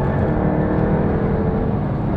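Under acceleration, a Jaguar F-Type R Convertible's engine gives off a loud, continuous, rough roar that stays close and steady throughout, with no voices over it.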